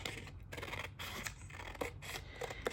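Scissors cut along a score line in a craft material, giving a run of close, crisp snips and rasping slices that carry on steadily with no speech.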